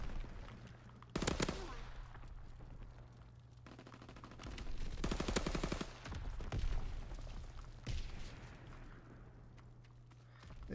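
Gunfire from an M38 rifle in the Call of Duty WW2 video game, with several loud bursts of shots spread across the clip over a steady low game-ambience hum, no talk heard.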